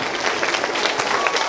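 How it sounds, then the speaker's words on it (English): Audience at a 5th–6th grade school math competition award ceremony clapping steadily for prize winners, a dense, even patter of many hands through the short stretch. "Give them a round of applause."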